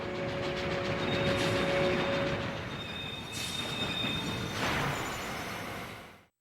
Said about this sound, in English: The train is pulled into the station.